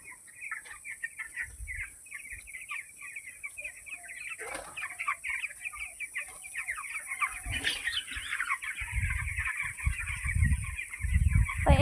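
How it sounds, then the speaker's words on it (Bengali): Chickens cluck and chatter steadily in a coop, with occasional wing flaps and thumps nearby and a faint high electrical whine underneath, no voices. "এই লম্বাটায় কত পাখি আছে?"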